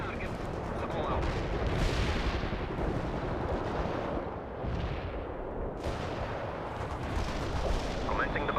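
An artillery barrage in the video game World in Conflict, with dense, continuous heavy booms and rumbling blasts overlapping loudly for several seconds and a voice speaking under the barrage.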